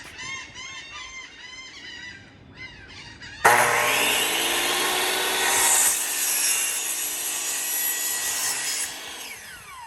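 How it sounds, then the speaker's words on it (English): A saw cuts through an aluminum railing piece for a Liberty Rail system, starting abruptly after a few squeaky rubbing sounds and then running as a loud, sustained whining cut that fades out near the end. "we're gonna go ahead and give this thing a little cut"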